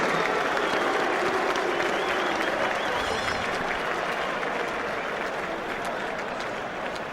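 Large boxing arena crowd at Upton Park, London applauds and roars during fighter introductions, a loud sustained wash of clapping and cheering with an announcer's voice faintly under it.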